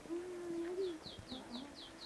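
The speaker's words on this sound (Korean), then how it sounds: "굉장히 새소리가 아름다워요." Birds call in a bamboo forest beside a traditional hanok village, a series of short repeated chirps at moderate distance over a steady background hum, with a low sustained tone underneath.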